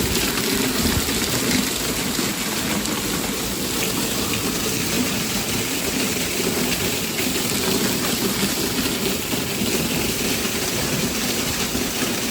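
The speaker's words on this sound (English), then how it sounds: "The waterfall is an addition." An artificial waterfall runs at a sample villa in Sirmaur near Kasauli: a steady, loud rushing and splashing of falling water, close and unbroken, a constant broadband wash with no voices heard.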